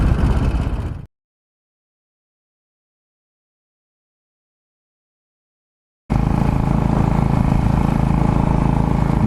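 A Royal Enfield motorcycle rumbles steadily while being ridden, with a loud, close engine drone broken by a silent gap of several seconds before it resumes.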